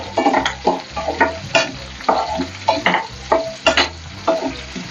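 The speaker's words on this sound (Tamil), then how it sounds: "போட்டு கொஞ்சம் நல்லா ஃப்ரை பண்ணிக்கலாம்" Onion, green chilli, ginger and garlic frying in oil for Hyderabad paneer gravy, a loud close sizzle punctuated by a steady rhythm of spatula scrapes and stirs against the pan, no voices.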